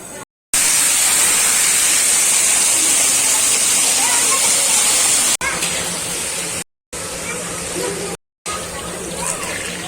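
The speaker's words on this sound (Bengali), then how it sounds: "তা চলো এখন আলুটা ভেজে নেবো" Potatoes sizzle in hot oil with a loud, continuous hissing roar, broken by a few short gaps, while people talk in the kitchen.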